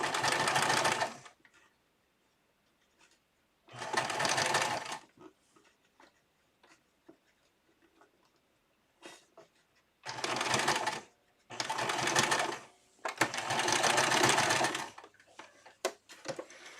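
A sewing machine stitching small doll clothes around a curved seam, running in several loud, whirring bursts of a second or two, separated by near-silent pauses with faint handling clicks.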